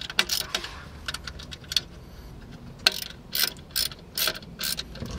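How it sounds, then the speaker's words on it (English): Ratchet wrench with an 8 mm socket tightening a ground wire bolt on a metal bracket during a 2013-2014 Toyota Avalon install, a run of sharp clicking bursts in uneven spurts, close up and alone. "So grab a hold of an 8 millimeter socket."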